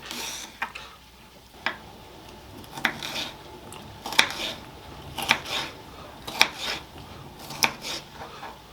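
Vegetables being diced with a knife on a cutting board for a frittata, a series of sharp, fairly close chops and taps spaced irregularly, roughly one or two per second, with no talking.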